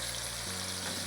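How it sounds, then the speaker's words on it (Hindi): Aloo kofta frying in ghee over medium heat, a steady soft sizzle and crackle of oil that runs through the whole short stretch, with no voice. "उसी में हमने ये कोफ्ते फ्राई कर रहे हैं।"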